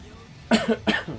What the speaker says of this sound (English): Damn, trying not to cough.